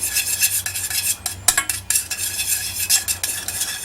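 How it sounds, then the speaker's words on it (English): A knife stirs melted margarine and syrup in a pan, scraping and clinking against the metal in quick irregular strokes, close and fairly loud, with a faint sizzle underneath. "Is that the special treatment you give to your pans using a knife?"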